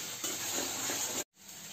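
Spice paste for fish curry frying in oil hisses in a dense, even sizzle up close, dropping out for a split second before resuming.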